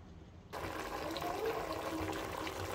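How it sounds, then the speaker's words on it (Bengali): After a short quiet moment, water pours into a pot of beef bhuna, a sudden steady gushing splash that continues close by until the end. "আমি একটু পানি অ্যাড করেছি"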